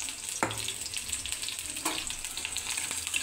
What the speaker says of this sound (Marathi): आता आपण ह्याला तेल तापलेलं आहे, लसूण जिरं त्याला तेल खूपच कमी घालायचं